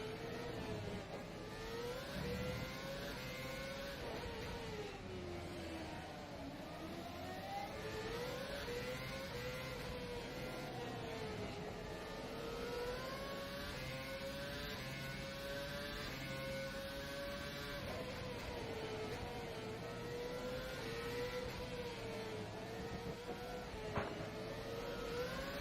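A Formula One car engine in the rFactor 2 racing game drones steadily, its pitch rising and falling through gear changes and corners, loud and continuous from start to finish.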